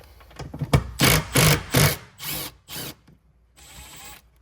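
Socket wrench backing out two 10 mm bolts on a Honda CR-V center console, heard as several loud, close ratcheting bursts in a halting rhythm with short pauses between.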